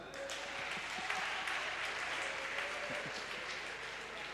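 Congregation clapping during a church worship service: steady, dense applause that continues throughout, with voices faintly mixed in.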